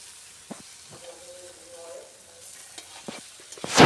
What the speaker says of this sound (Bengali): ভালো করে নেড়ে ভালো করে কষিয়ে নিতে হবে।